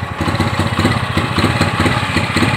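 A small motorcycle engine that has a fouled, blackened spark plug sputters and runs rough after a kick start, its uneven low chugging and clatter heard close up and alone.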